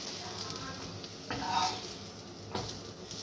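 Egg-and-flour parathas fry in oil in a home kitchen, with a soft steady sizzle broken by a few brief stirring and spatula scrapes, close and fairly quiet.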